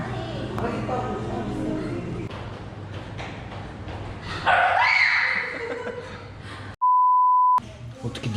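A puppy gives a few yips and short barks amid people talking nearby, followed by a loud electronic beep near the end.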